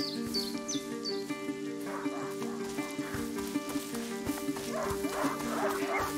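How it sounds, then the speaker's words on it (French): A hunting dog in the video game A Plague Tale: Innocence gives a few quick high barks at the start. Steady ambient music and outdoor sounds continue underneath, with later faint yelps. "Un chien de chasse! Il n'est pas censé semer son maître!"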